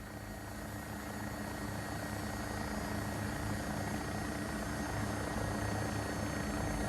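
An AW109SP Agusta helicopter in a flight simulator game, engine and rotor droning steadily and loudly throughout, a dense, unbroken mechanical roar with no voices.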